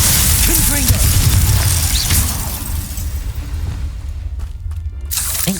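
Spell blasts from the Hogwarts Legacy video game, including Glacius and Confringo, crack and boom in a loud, dense run of impacts with shattering bursts, under a voice shouting the spell names.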